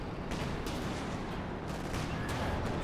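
A Panzer IV tank fires during a WWII strategy game battle, its shots lost in dense, continuous bursts of overlapping gunfire that hold loud and steady throughout, with no talking.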